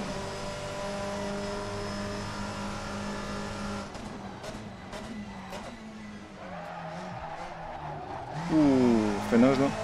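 A Seat Leon racing car brakes hard in the video game Assetto Corsa, its engine tone dropping steadily before tires squeal in a rising, wavering screech near the end, with the engine droning throughout.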